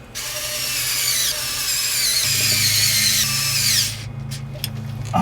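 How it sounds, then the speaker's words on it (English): A power drill drives new screws into a replacement secondary fuel filter drain valve on a Cummins 5.9 ISB diesel, one steady high whir lasting a few seconds that drops in pitch midway, then stops. "we can put the new screws in"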